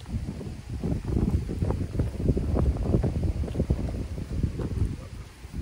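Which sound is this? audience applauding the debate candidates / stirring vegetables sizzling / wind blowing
wind blowing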